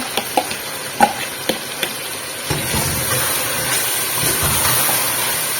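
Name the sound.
mutton frying with yogurt in a pan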